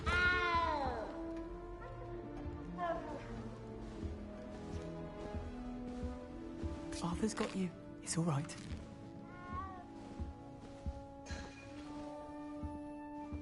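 A frightened cat meows repeatedly, sliding plaintive cries that rise and fall between soft spoken reassurances, with a few louder wails and clattering thumps in the middle.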